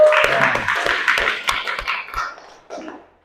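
Classroom of students clapping for classmates who scored 100 on a post-test, a short burst of loose, uneven hand claps that thins out and fades after about two seconds, with a few stray claps near the end.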